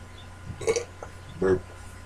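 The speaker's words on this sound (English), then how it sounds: "First burp, your basic beer burp." A beer burp after drinking Rolling Rock, with two short guttural belches about a second apart, fairly close and moderately loud over a quiet background.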